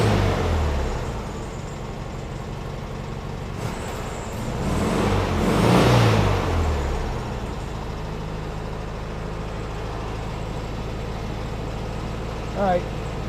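A 1972 VW Super Beetle engine, still being coaxed to run properly, idles roughly, then swells in a brief throttle rev before settling back, with people talking over it nearby.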